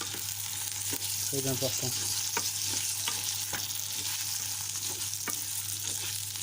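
White rice toasts in olive oil in a pan, a steady close sizzle with a few spoon scrapes and stirring clicks, and a voice speaks briefly.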